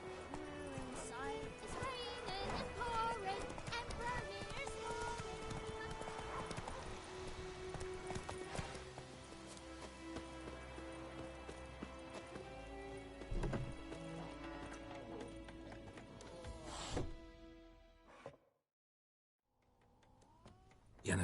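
Roach, the horse in The Witcher 3, gallops under a dense bed of game music and ambience, the hoofbeats partly masked; the sound thins and drops to near silence toward the end.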